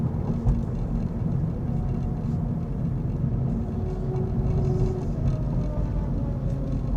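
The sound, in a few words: freeway traffic noise heard from a car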